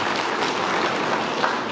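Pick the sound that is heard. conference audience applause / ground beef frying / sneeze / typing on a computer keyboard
conference audience applause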